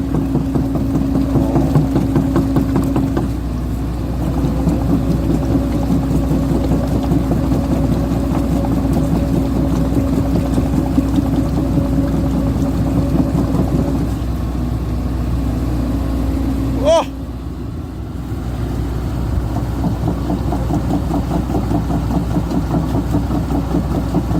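A Kobelco SK140LC Super XM long-boom excavator used on a shrimp farm, its diesel engine idling steadily and fairly close, with a brief clunk and a momentary dip near the end before the steady running resumes.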